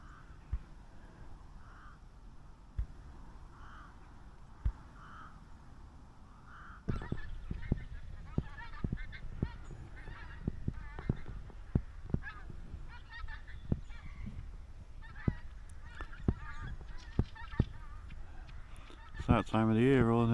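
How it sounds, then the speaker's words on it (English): Geese honk at an estate lake in October, a few distant calls at first, then a flock arriving with repeated loud honks close by, a soft voice and crow-like caws mixed in. "It's that time of the year, all the geese are turning up."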